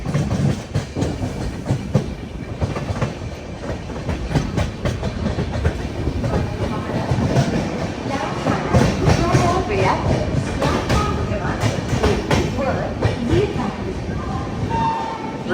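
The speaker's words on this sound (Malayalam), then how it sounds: "ട്രെയിൻ ഇതാ ലോണാവാല സ്റ്റേഷനിലേക്ക് എത്തിക്കൊണ്ടിരിക്കുകയാണ്" A passenger train rolls into Lonavala station with a continuous rumbling clatter of wheels over rail joints and repeated thuds from the carriages. Voices talk over the train throughout.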